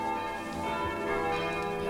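A church bell rings out with a sustained, shimmering metallic tone and lingering overtones, fairly close and steady throughout the short moment, with no voices over it.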